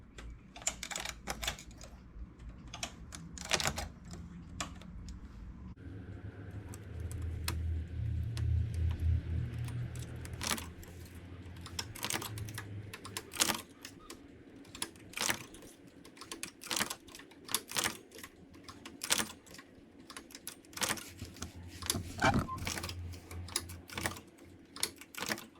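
A domestic knitting machine carriage runs back and forth knitting rows, giving a series of sharp clacks and rattling sweeps with a low mechanical rumble in between, close and steady, with no voices.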